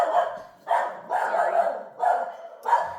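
Several dogs bark indoors in loud, repeated bursts, five or so clustered volleys with short gaps, close to the listener and with no talk over them.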